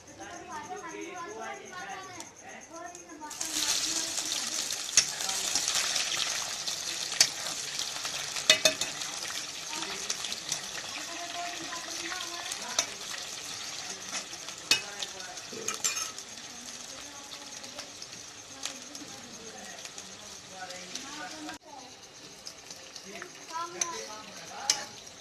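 Onions frying and being stirred in a pan during Haryana village cooking of bathua saag, a steady broadband sizzle rising sharply after a few seconds, with scattered ticks and scrapes of stirring, close and moderately loud throughout.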